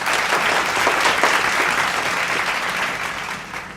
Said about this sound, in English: Guests, please give a round of applause for our guest